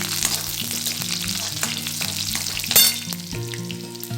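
Curry leaves hit hot oil in a pan for a bitter gourd bhaji, producing a bright, crackling sizzle with stirring scrapes and a louder burst of spitting, over light background music.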